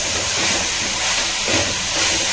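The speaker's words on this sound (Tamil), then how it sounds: "சிம் பண்ணி தான் நான் வந்து இதை வதக்கிட்டு இருக்கேன்" Curry leaves sauté in oil over a low flame with garlic, giving a steady, soft, continuous sizzle close by, with no talking.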